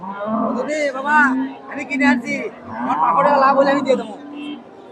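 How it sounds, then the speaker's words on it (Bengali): A Friesian cross cow at the Hasokhali cattle market in Bogura lowing loudly in several drawn-out moos close by, with the voices of people nearby mixed in. "সুন্দর একটা গাভী ফ্রিজিয়ান ক্রস দেখা দেখি চলতেছে"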